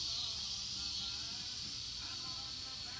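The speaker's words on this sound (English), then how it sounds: "You hear those cicadas in the background?" Cicadas on a Louisiana summer evening make a steady, high, hissing drone that stays faint and constant in the background throughout.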